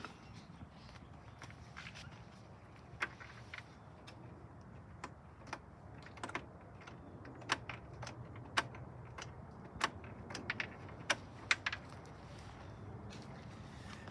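The fuel shut-off solenoid on a 2004 John Deere L110 riding mower clicks repeatedly as the key is cycled, sharp irregular ticks of varying strength over a low background rumble with no talk.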